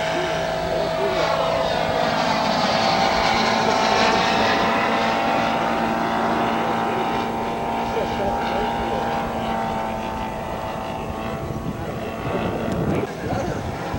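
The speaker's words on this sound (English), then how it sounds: "Dirty flyby for the Corsair." A scale model Corsair aircraft engine drones steadily through a low dirty flyby, the tone sweeping slightly as it passes, with voices talking over the engine throughout.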